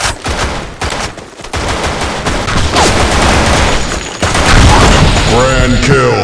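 Weapon gunfire in the shooter game BlackShot, dense rapid bursts of shots and booms in close succession, loud and continuous, with game voice lines and other sounds mixed in.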